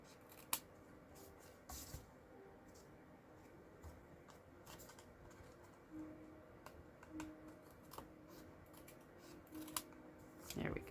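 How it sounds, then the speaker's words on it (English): Scissors snip a tiny trim off paper strips on a handmade fishing-themed birthday card, a few faint, quiet cuts amid soft paper handling and rustling, with no voice over the sound. "I'm going to flip it over and see if I need to trim a little bit here"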